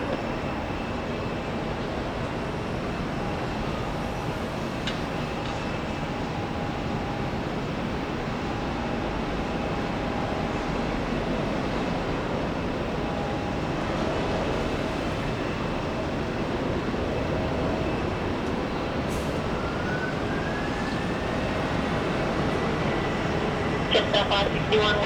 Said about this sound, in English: runway 34, clear for takeoff